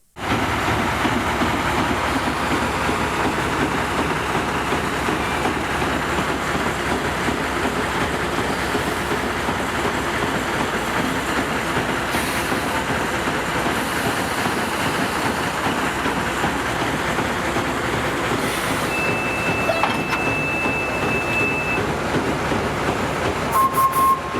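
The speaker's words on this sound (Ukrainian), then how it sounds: "тому чекаємо на прибуття з депо тепловоза" A diesel locomotive arrives from the depot on the narrow-gauge Kyiv Children's Railway at Haivoron, heard as a steady, even rumble and rattle that runs unbroken for the whole stretch.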